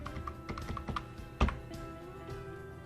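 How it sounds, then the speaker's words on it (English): Keys clack in quick irregular bursts on a computer keyboard as a number is typed into an Excel spreadsheet, close and moderately loud, with one sharper keystroke midway. "So just type 20 million."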